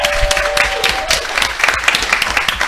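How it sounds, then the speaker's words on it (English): A steady burst of applause from a crowd, dense clapping that continues throughout at a fairly loud level. "can I get a round of applause for our sponsor"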